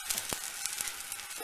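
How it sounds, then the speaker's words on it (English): Polish chicken soup boiling merrily in an uncovered pot, a steady close bubbling hiss with occasional soft pops and clinks. "So I have removed the lid and it's now boiling very merrily."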